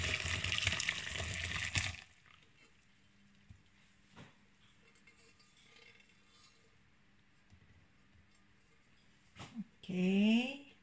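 Water runs from a kitchen tap for about two seconds while making ginger-lemon juice, then cuts off, leaving a quiet room with a few soft knocks and a brief sharp sound near the end.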